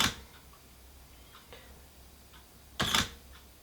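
Sony A7RII mirrorless camera shutter firing at 1/25th of a second, a sharp click at the start and another pair of close clicks near the end, with faint small ticks in between.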